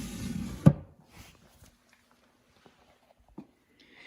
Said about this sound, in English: And then down here, another drawer.